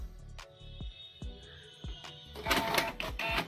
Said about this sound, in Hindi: ये देखिए छपना स्टार्ट हो चुका है।